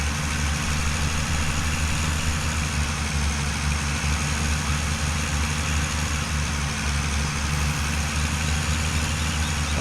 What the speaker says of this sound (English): Oh, that's only 65 kilowatt tractor.